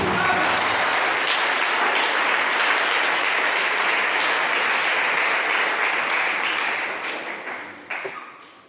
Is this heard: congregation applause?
yes